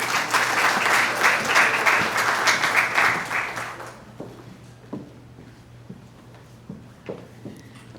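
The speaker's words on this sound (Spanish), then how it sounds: "Fuerte aplauso." Loud applause from a conference audience at an association's swearing-in event, a dense burst of clapping for about four seconds that fades quickly into a quiet room with a few scattered claps.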